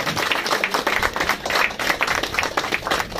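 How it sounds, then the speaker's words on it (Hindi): Crowd applause welcoming a guest at a hospital inauguration in Malad East, Mumbai: dense, continuous clapping from a large audience, fairly loud and close throughout. "मैं चाहूंगा एक बार हम तालियों से रामबाबू का स्वागत।"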